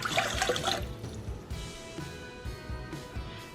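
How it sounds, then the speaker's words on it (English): Warm water pouring and trickling into a bowl for white loaf bread dough, a short, close, soft splashing stream that thins into gentle dribbles. "To start, I'm going to add 1 1/3 cups of warm water"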